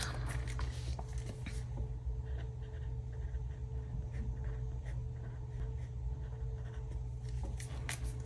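Pen writing in a paper planner, close scratchy strokes with small ticks and pauses, continuous and quiet with no talking.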